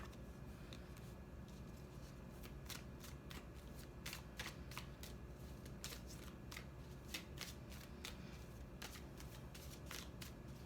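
Tarot cards being handled and laid down one after another, with crisp slaps and sliding taps recurring irregularly over a steady low background hum, fairly quiet and close.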